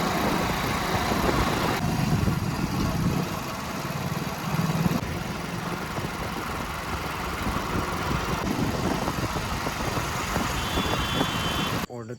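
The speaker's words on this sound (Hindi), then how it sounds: "पूरा रोड ट्रैफिक है और इस टाइम में ट्रैफिक बहुत ज़्यादा हो रहा है" Road traffic rumbles at rush hour, with car and truck engines idling and droning close by in a continuous low wash, under occasional talk.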